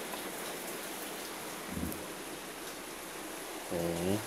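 Steady rain falling outdoors, a close, even hiss that fills the whole stretch, with a brief voice breaking in near the end.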